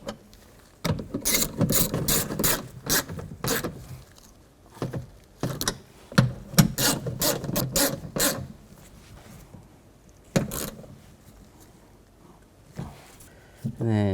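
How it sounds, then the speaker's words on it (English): Ratchet snugging down the bolts on a 2007-16 GMC Acadia window regulator: quick bursts of clicking strokes come in rapid runs separated by pauses, heard up close. "once you get them all started, then you can go back and snug them down"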